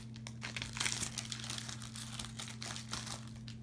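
Crinkling plastic as a 2019 NFL football card pack wrapper is torn open, soft close crackles and rustles over a steady low electrical hum, with no talking.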